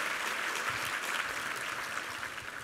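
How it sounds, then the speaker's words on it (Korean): A church congregation applauds a men's vocal ensemble and a musical drama team during a Sunday service, with continuous, dense clapping that fills a large room and holds steady throughout. "우리 남성 중창팀과 우리 뮤지컬 드라마 팀 한번 힘찬 격려 박수"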